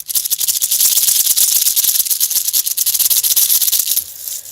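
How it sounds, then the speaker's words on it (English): Rattlesnake rattle, an old one, shaken up close in a steady dry buzzing hiss with rapid rhythmic pulses for about four seconds, then fading quieter at the end, with no talking. "If you guessed a baby rattle, you're wrong. Tonight we're talking about rattlesnakes."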